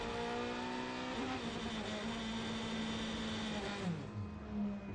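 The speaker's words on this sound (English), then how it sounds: "You could hear him revving the car" A sports prototype race car engine at the São Paulo 6 Hours endurance race revs and drones at a steady high pitch, then drops and surges again near the end, loud and close.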